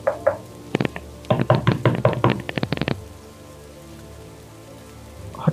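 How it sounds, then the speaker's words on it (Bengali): Heavy rain drums on a surface while a series of loud, sharp knocks strike a door in quick uneven bursts, then the steady rain continues alone. "এত জোর বৃষ্টি হচ্ছে। হঠাৎই দরজায় কড়া নাড়ার শব্দ।"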